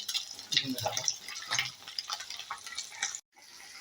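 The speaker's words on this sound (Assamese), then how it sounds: "এয়া আমাৰ আশাৰাণী বৌৱে মানে মাছ ভাজি আছে।" Fish frying in a pan in a village home kitchen, light crackling spatter and occasional clinks up close, with voices talking over it and a short silent break near the end.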